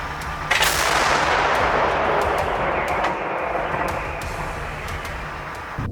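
A single loud blast from an armored vehicle's cannon cracks out, followed by a long rumbling decay that fills the rest of the clip with no voices.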